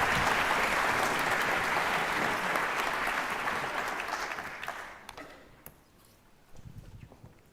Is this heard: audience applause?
yes